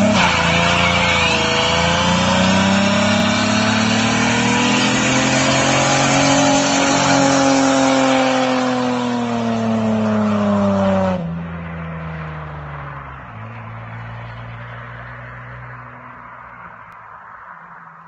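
A 3.8 Ford Mustang does a burnout, the engine revving hard and loud with rising and falling pitch and tire squeal, then dropping abruptly to a lower steady idle-like drone.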